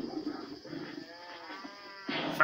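A cow in the video game Minecraft gives a few drawn-out, close moos against light background game noise, with a sharper burst of sound near the end.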